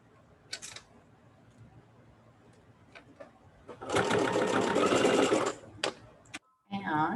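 A sewing machine stitches quilt patches together in a short, loud burst of rapid mechanical whirring, with quieter handling clicks and rustles before and after.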